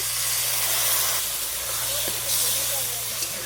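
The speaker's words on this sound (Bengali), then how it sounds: "এক কাপ পরিমাণ জল দিচ্ছি" A cup of water hits a hot cooking pan holding ginger, garlic, green chilli and onion pastes with whole garlic, giving a continuous close steam hiss over a low hum throughout.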